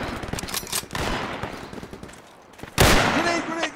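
Gunfire crackles through a Project Reality WW2 battle, an MG42 machine gun firing in rapid, dense bursts, with a heavier, louder burst near the end and voices talking over the shooting.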